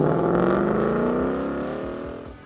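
A Ford Mustang fitted with an AWE exhaust system drones past close by, its engine note smooth and gradually falling in pitch as it fades slightly.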